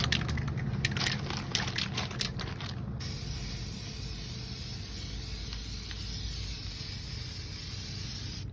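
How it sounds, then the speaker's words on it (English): Aerosol spray paint frosting a glass vase: a few short, sharp hissing bursts in the first three seconds give way to a steady, close, continuous spray hiss that carries on to the end, with no talking. "So when you're spraying yours, be really careful not to overspray."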